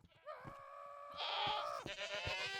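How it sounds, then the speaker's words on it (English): Goats in Minecraft bleat in long, wavering synthetic calls, one drawn-out cry followed by another, loud and clear with faint clicks around them. "And right here we have goats."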